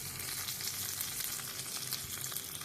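Coconut chutney tempering crackles and spatters hard in a hot pan, a dense, steady sizzle with popping bursts throughout, close and loud with no voices.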